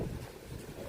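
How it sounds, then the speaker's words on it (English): Steady low rumble of wind buffeting a microphone, loud and continuous for the full second, with no voices. "Oh, it's windy."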